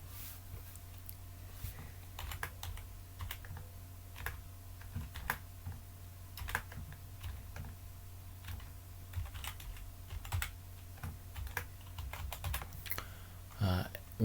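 Someone types a login on a computer keyboard. Irregular bursts of soft, close key clicks sound over a quiet room hum, with brief pauses between runs of keystrokes.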